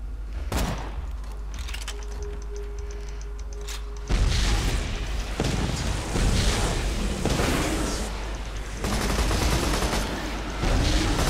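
Vehicle-mounted guns in Borderlands 2 fire in rapid bursts, booming and clattering loudly and close after a quieter stretch, continuing in repeated volleys.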